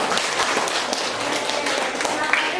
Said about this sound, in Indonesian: sebelumnya kita kasih tepuk tangan dulu